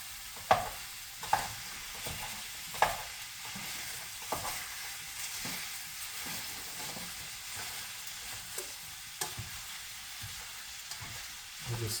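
Ground beef frying in a pan while a utensil pushes and twists to break it up, a steady sizzle under repeated scraping strokes and a few sharper knocks against the pan.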